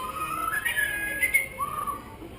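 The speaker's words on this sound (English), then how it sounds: "How about whistling us a tune?" A trained bird at a summer zoo bird show whistles a short rising and falling tune, a few clear pitched phrases heard close and alone.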